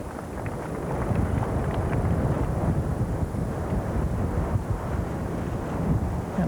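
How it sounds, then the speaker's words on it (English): Wind gusts across an outdoor golf course at the 1993 Masters, a steady rushing roar buffeting the microphone with rumbling low noise throughout. "It's getting windy out here."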